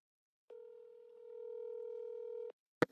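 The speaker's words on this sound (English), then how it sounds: "We're gonna call Starry on my phone" A phone call's dial tone plays as a steady, clean two-second tone that swells slightly, then cuts off, followed by a brief click.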